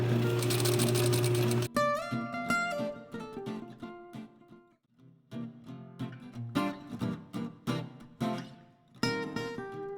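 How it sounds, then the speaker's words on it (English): A sewing machine stitches a straight seam in bursts, starting and stopping several times with short pauses between runs of rapid, steady mechanical chatter, close and clear with no talking. "You'll pull it out and keep sewing along that straight seam allowance."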